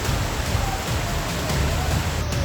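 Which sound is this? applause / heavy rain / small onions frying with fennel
heavy rain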